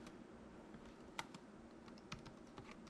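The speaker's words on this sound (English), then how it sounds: "You can only hear really my heavy thumbs on the space bar." Typing on a 3DConnexion Keyboard Pro, quiet soft key clicks with a few heavier thumps from thumbs on the space bar, very faint and close, no talking.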